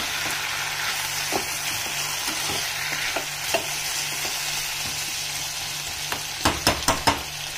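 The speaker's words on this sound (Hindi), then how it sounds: "ये देखिए, इसको अब ऐसे चलाना है हल्के हाथ से।" Potatoes coated in red chilli and cumin powder fry in a pan and are stirred gently, a continuous sizzle with soft scraping strokes and a quick run of spatula knocks near the end.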